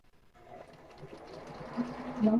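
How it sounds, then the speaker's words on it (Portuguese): A sewing machine stitches a ribbed knit tank top strap at stretch stitch setting 4, a close, steady mechanical whir that builds and grows louder as it runs, with no talking. "Não pode esticar para costurar, tá? Senão fica toda enrolada a alça."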